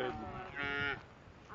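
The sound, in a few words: shorthorn cattle mooing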